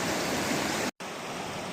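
Water rushes steadily over a stone river crossing on a mountain trail, a broad continuous close hiss with a brief cut in the middle.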